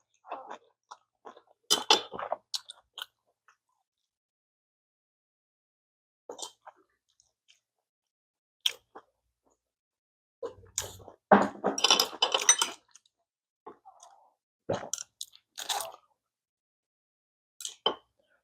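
Mouth sounds of someone eating kimchi-wrapped bossam pork with Tongyeong oysters and salted hairtail innards: sparse, close chewing and crunching bursts separated by quiet pauses, with faint clinks of utensils.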